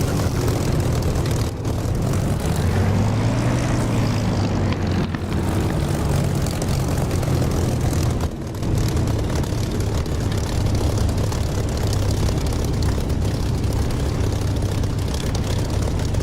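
Spitfire piston engine in the DCS flight simulator drones steadily while the aircraft taxis toward the runway, a loud continuous propeller rumble with a slight pitch rise early on and no talk.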